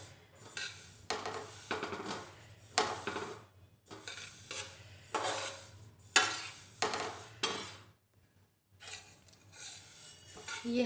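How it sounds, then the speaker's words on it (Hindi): Sesame seeds, 250 grams of them, are dry-roasted in a pan over low flame while being stirred constantly, giving repeated close scraping and rustling strokes with short gaps between them. "ये हमारा 250 ग्राम तिल है। सभी को हम एक साथ भून देते हैं। ऐसे लगातार चलाना है"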